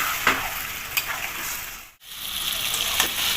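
Marinated mutton with spices stir-fried in a hot pan, a steady loud sizzle broken by scraping stirs near the start, around one second and near the end, with a brief pause in the middle.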